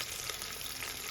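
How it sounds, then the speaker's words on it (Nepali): Onion and bay leaf fry in hot oil in a pan, giving a steady, dense sizzle with no talk over it. "तेजपत्ता लगाएर यसलाई एकछिन भुट्छु म"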